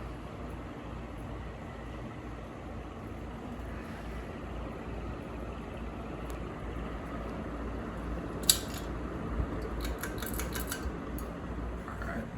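Steady low whir and hum of a 36-inch View Fan 3 metal blade ceiling fan running with its light on, constant and even, with a few faint metallic ticks near the end.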